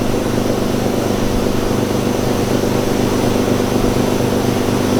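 A Chevrolet Camaro engine roars continuously on a dyno, a loud, dense, unbroken drone filling the space without any talk.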